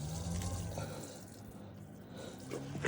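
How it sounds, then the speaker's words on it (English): Water drains from the valve of an RV urine tank mounted under the carriage, a close, steady gurgling rush with small splashes and drips, heard without talk. "the water drains from it"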